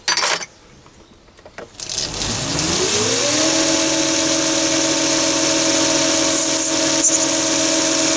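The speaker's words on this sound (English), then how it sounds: "just chamfer the end with my 45 HSS tool" A metal lathe chamfers the end of a Delrin part with a 45-degree high-speed-steel tool, a loud steady machining whine with a sharp high ringing tone that starts after a brief quiet and holds throughout.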